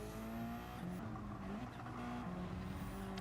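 A Subaru race car in Gran Turismo 7 at Monza, engine droning steadily with brief pitch dips and faint tire noise as it spins out, with other car engines layered close behind.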